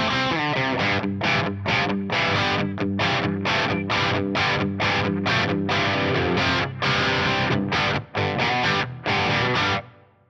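Electric guitar played through an amp on a lower-gain scene for classic rock, with lightly overdriven chopped chords in a quick rhythmic pattern and brief gaps, loud and close with no talking.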